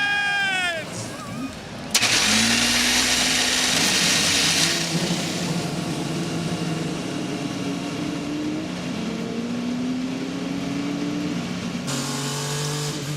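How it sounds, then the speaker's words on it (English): IndyCar race car engines fire up and rev at the Toronto Grand Prix, several loud engine roars building and holding behind a crowd and a public-address announcer talking. "Drivers, start your engines!"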